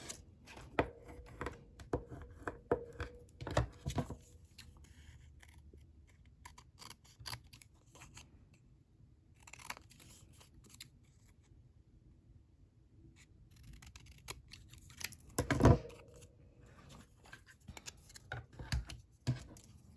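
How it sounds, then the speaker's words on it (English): Scissors snip through scraps of paper for junk journal embellishments, giving sparse, quiet cuts and rustles with long pauses and a louder cluster near the end. "Trying to arrange him in the middle, and then we'll cut off the ends."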